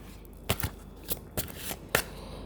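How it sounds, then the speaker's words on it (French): Tarot cards are shuffled by hand up close, with several quick, soft riffling bursts spaced irregularly over a couple of seconds. "je vais quand même battre les cartes"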